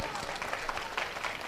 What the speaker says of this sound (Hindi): अगर आप मुझे सुन रहे हो पूरे मन से तो एक बार ताली बजाकर सारे लोग आदेश दे दीजिए